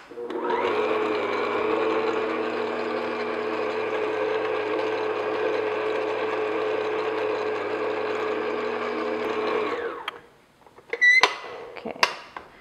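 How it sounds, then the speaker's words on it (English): An electric mixer beats banana cake batter for about ten seconds, its steady whirring drone loud and constant before cutting off, followed by a few light clinks. "And then I'm just going to beat this just until the ingredients are combined"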